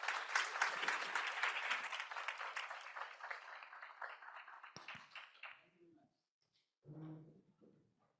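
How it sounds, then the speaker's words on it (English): Audience applause for panelists at the close of a Tokyo-London green finance seminar, a dense crowd clapping that gradually fades out, followed by brief quiet and a short spoken voice. "Please give a big applause to the panelists"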